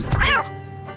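A single cat gives one close, clear meow lasting under half a second, followed by a quiet room.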